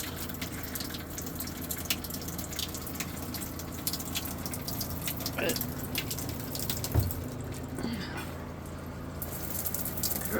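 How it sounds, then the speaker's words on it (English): Bleach water running through an RV shower under low pressure, a steady trickling hiss with occasional drips and clatters, fairly faint, and a brief spoken word over it. "the one thing I want to do is run the bleach water through the shower as well."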